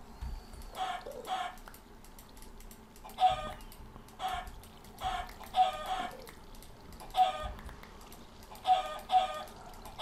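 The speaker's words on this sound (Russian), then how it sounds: "А, это курица просто." Chickens clucking in Minecraft's Stoneblock modpack, several short bursts of clucks repeating at irregular intervals over a quiet background, fairly close and moderate in volume.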